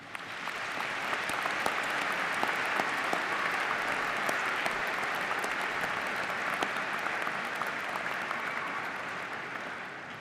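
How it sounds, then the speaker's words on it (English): Steady, dense applause from a large commencement audience honoring parents, family and friends at Butler University, sustained evenly for about ten seconds at a moderate distance with no speech over it. "Let's take a moment to give them a round of applause"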